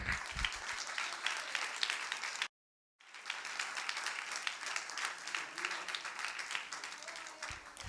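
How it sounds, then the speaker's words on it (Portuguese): A church congregation applauds steadily in a dense wash of clapping, broken by a brief silent gap before the applause resumes just as full and continuous. "Vamos aplaudir ao Senhor, irmão?"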